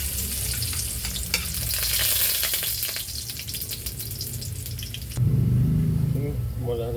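Garlic frying in a pan for pinakbet: a steady bright sizzle with scraping, then a sudden louder burst of hissing as more goes in, and a voice talks over it toward the end.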